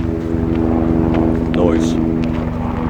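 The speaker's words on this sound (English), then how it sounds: "there's a plane going overhead right now." An airplane passes overhead as a steady, low droning hum under a voice, which carries on throughout.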